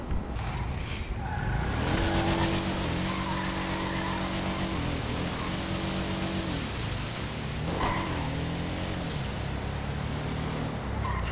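A car summoned in GTA Online pulls up, its engine revving and shifting pitch with a brief tire screech, loud and steady throughout.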